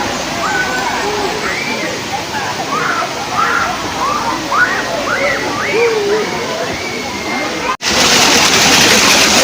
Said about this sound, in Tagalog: Yung pinagagalingan ng tubig.